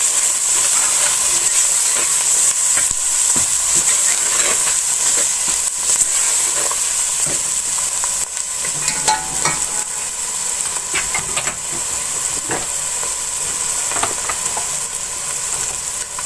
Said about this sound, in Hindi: अब इसको मिक्स कर लेंगे।